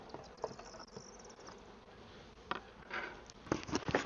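A swarm of honeybees drones continuously at close range, a dense buzzing hum with individual bees passing louder near the mic in the final seconds, with no talking.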